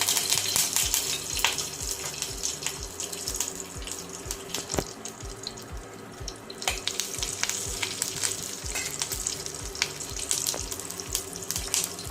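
Curry leaves dropped into a hot cumin and mustard seed tempering for an okra bhaji, giving a steady, close sizzle and crackle with sharp pops scattered throughout.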